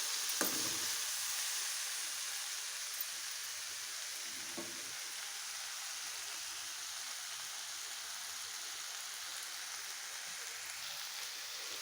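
Carrot pieces fry steadily in a pan, a continuous soft sizzle that holds at an even level throughout with a couple of faint clicks near the start.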